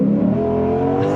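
The naturally aspirated V8 of a 2023 Lexus IS 500 F-Sport Performance revs hard in a loud, continuous, close engine roar with a steady deep tone and no speech.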